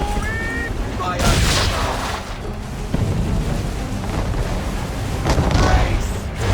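Cannon and musket volleys in the Assassin's Creed 3 video game on Xbox 360 crack out in loud, booming bursts with rumbling echoes, while a shouted voice sounds at the start.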